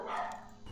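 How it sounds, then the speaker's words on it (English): A single short bark from the speaker's own dog, heard faint in the background of the room and lasting only a moment. "my dogs are barking again"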